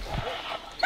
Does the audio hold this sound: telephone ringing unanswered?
no